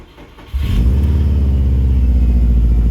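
Mazda RX7 FD rotary engine catching after a short crank, jumping to a loud, close, steady idle with a deep low rumble that stays even to the end.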